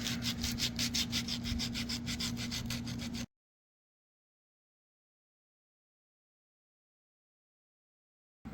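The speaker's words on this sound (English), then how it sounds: "sandpaper on these grooves, just to kind of clean up some of the Dremel marks and get some of those fibers taken off" Sandpaper rubbing back and forth in quick, even strokes over Dremel-cut grooves in a scrap-built morning star, with a steady hum underneath, lasting about three seconds before cutting to silence.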